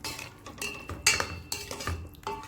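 A spoon scrapes and clinks around a pan while thick coconut milk is stirred into a Sri Lankan pineapple curry, a series of close, uneven metallic knocks and scrapes with no talking.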